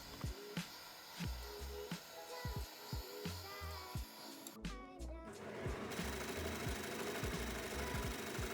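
Sewing machine overlocking and stitching a folded 1 cm hem on a long slit skirt, close and fairly quiet, with rhythmic thumps and whirring bursts giving way to a steadier run of stitching.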